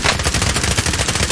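Rapid automatic gunfire rings out in a Call of Duty: Warzone match, a dense, loud burst of evenly spaced shots firing nonstop through the short moment with no talk over it.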